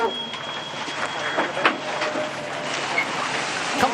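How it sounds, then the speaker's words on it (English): A steady, loud mechanical hum and rush from a fast America's Cup racing sailboat, its hydrofoils humming underwater, with water noise and a faint whine running throughout. "Sounds like a jet engine taking off. These foils underwater humming."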